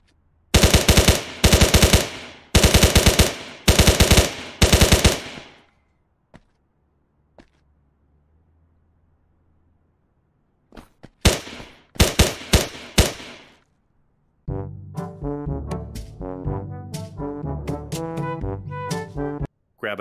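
Bursts of gunfire from firearms on a shooting range during an emergency reload drill: several rapid, loud strings of shots up front, a pause with faint handling sounds, then two more volleys of quick, sharp reports.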